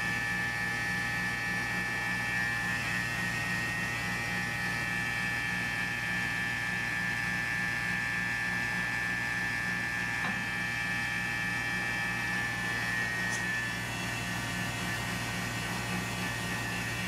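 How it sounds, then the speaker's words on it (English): A grinder works down rough welds on a steel vacuum-box test piece, giving a continuous, steady high whine with a faint rhythmic buzz underneath that holds at a constant level throughout. "I'll just grind it down and lay another pass on top of it"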